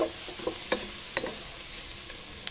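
Capsicum frying in a pan for fried rice, a steady close sizzle broken by several sharp clicks and taps of stirring, with no voices.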